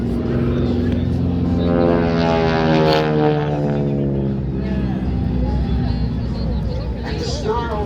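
A propeller aircraft powered by an R1340 radial engine performs at an airshow over Greenwood Lake Airport, its engine droning loudly and steadily with a pitch that rises and then falls as it passes, while a commentator talks over it.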